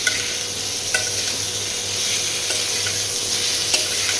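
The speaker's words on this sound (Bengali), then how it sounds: "নুন হলুদ দিয়ে ভালো করে ভেজে নেব আলু আর এঁচোড়টাকে" Potato and green jackfruit frying in a pan with salt and turmeric, a continuous close sizzle with occasional sharp stirring clicks and scrapes, no voices.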